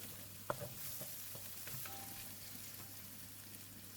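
Brinjal stir fry cooking in ghee and stirred, a faint steady sizzle with one sharp clink early on and a few light scrapes, quiet and close over a low hum.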